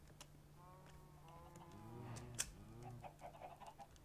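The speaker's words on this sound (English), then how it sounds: "Why do we have so many chickens?" Chickens cluck in the Minecraft video game, a cluster of short rising clucks and calls near the middle with softer clucks after, over a quiet game background.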